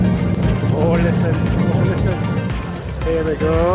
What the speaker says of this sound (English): I'm just catching the cars, eh guys?